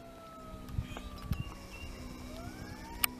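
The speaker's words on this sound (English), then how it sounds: "There's sirens. What siren is that? Fire. Fire? Yeah, that's fire." A fire engine siren wails faintly in the distance across Herrington Lake, a thin rising and falling tone under low outdoor rumble, with a few soft knocks nearby.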